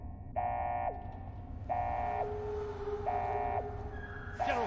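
A repeating electronic alarm tone in Fallout: The Frontier, sounding in four steady, evenly spaced pulses of about half a second each, moderately loud over a low background rumble.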